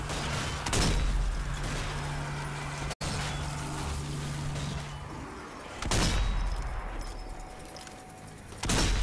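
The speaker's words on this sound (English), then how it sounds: "Is somebody using the M1 Garand?" In Zombie Army 4: Dead War, M1 Garand rifle fire rings out as loud, sharp shots among heavy battle noise, with several bursts of gunfire spaced a few seconds apart over a rumbling background.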